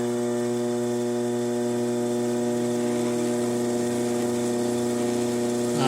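A pottery wheel spinning fast while a mug is trimmed with a number 1 trimming blade, giving a steady electric motor hum with layered tonal harmonics, constant and close.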